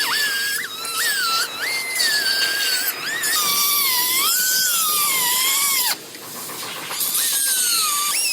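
An abrasive cutoff wheel slices through a Jeep frame cross member, giving a loud, continuous high-pitched metallic whine that rises and falls in pitch as the disc bites into the steel, with a short dip in intensity partway through.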